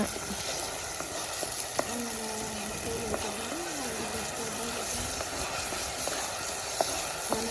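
Masala paste frying in hot oil for a fish curry, a steady soft sizzle running throughout with occasional stirring clicks, moderately close over a faint background hum.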